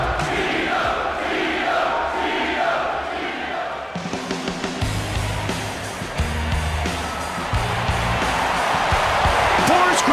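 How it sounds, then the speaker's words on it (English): Arena crowd roaring in the UFC 148 video game before a Griffin versus Ortiz fight, a continuous broad wash of cheering under a commentator's talk, joined by pulsing entrance music partway through. "listen to the crowd. They love this guy."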